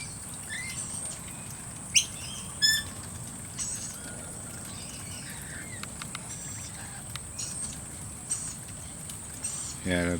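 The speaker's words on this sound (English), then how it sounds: "They call them noisy miners," Noisy miner birds calling within a mixed flock of wild Australian birds, faint chirps and a few sharper squawks scattered over a soft constant background hiss.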